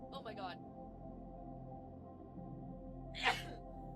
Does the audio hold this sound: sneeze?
yes